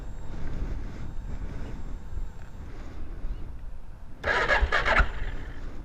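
A 2018 SWM Superdual X motorcycle with twin exhaust is cranked over and fires up near the end, the starter whir giving way to a brief loud burst of engine noise after a low rumbling lead-in.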